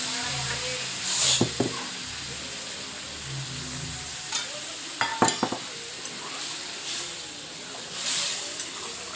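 Water poured onto well-fried spice paste in a pan sets off a faint sizzling hiss, broken by several sharp clinks and scrapes of stirring.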